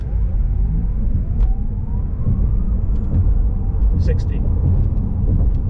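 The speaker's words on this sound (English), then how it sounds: "Foot flat down on the brake, other foot flat down on the accelerator, launch control activated" A Porsche Taycan 4S electric car launches hard under launch control in Sport Plus mode. A rising electric whine climbs over heavy road rumble while a voice talks throughout.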